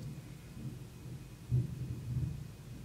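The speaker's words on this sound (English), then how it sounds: "Shit, that is thunder." Distant thunder gives a low, muffled rumble that swells briefly around the middle and again shortly after, over a quiet background with no talk.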